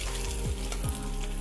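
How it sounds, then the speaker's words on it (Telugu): Hot tempering oil is poured into tamarind chutney with a steady, close hiss of sizzling, continuous and even throughout with no voices. "ఇప్పుడు ఈ తాలింపు దీంట్లో పోసేసుకుందాం."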